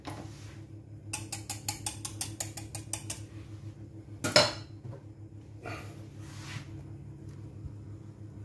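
Metal cooling racks without rubber feet rattle and clink in a kitchen. A quick run of light metallic taps is followed by one sharper clatter and a softer scrape, all faint against a low background hum.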